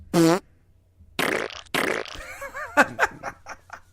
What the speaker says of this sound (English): Fart meter time.